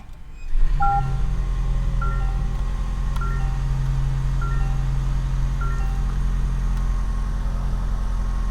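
A 2024 Toyota Tacoma Trailhunter starts at the push of a button: after a brief quiet moment the engine catches and settles into a loud, steady idle, with soft repeated chime tones sounding over the rumble.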